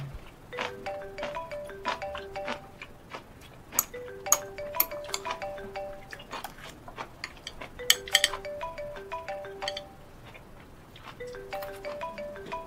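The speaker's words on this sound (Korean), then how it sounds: "뭐야, 전화 안 받아?" An unanswered phone ringtone plays a repeating electronic melody of bright chiming tones, cycling several times at moderate volume in a quiet room with no talk.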